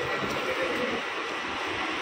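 A train at a railway station, a broad steady rumble and hiss filling the whole moment, constant and fairly loud with no clear voices.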